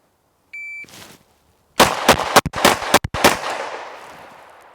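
PSA Dagger handgun at a shooting range: a short electronic shot-timer beep, then a quick string of about six or seven loud, sharp pistol shots with a fading echo.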